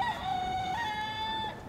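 Chickens in a hen house, with one bird close by giving a single long, loud, drawn-out squawking call.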